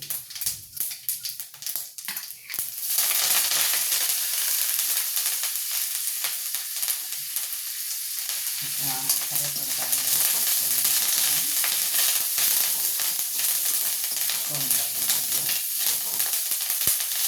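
Black pepper, mustard seeds and curry leaves hit hot oil with a sudden loud sizzle that settles into steady, crackling frying, with faint stirring scrapes underneath.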